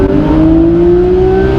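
A car engine pulls hard on a twisty mountain road, a loud, close, steady drone with the pitch slowly climbing as it revs.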